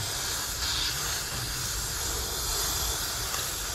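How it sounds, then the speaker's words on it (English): Compressed air and spray hiss steadily while blowing out the inside of a cheap Chinese jackhammer during a rebuild, a loud, continuous close-up rush with no pauses or voices. "See, spray and blow it out."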